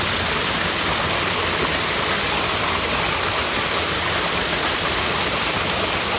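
Water pours steadily at Seven Sisters Waterfall near Palm Springs, a dense, continuous rushing roar at constant loudness with no voices.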